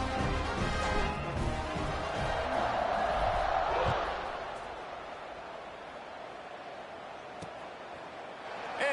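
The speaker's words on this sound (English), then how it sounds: "this crowd is buzzing after that last score" A stadium crowd at a college football game buzzes loudly after a score, as a broad, dense murmur that swells and then eases slightly, with announcer talk over it.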